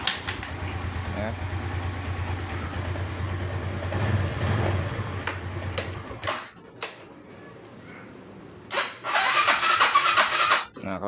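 A Suzuki Skydrive scooter being kick-started, its engine catching and running with a buzzing idle, then cutting out; a few short revving bursts follow near the end.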